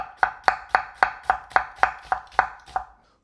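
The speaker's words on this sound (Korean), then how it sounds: "툭툭 떨어지는 재료 소리" A knife chops ingredients on a cutting board with an anti-slip rubber base, ten crisp evenly spaced knocks in a steady rhythm, close and clear with nothing else heard.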